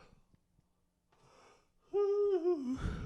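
A person yawns loudly and alone, a drawn-out voiced yawn that rises and falls over about a second, ending in a breathy exhale, after a quiet, breathy stretch.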